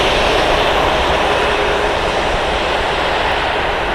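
A Southwest Airlines Boeing 737 pushes back at Columbus Glenn Airport, with a steady, loud jet engine roar holding evenly throughout and no talking.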